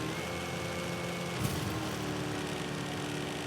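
An off-road buggy engine in the racing game Gravel drones steadily at a busy, rattling pitch like a sewing machine run hard, constant and loud with no pauses.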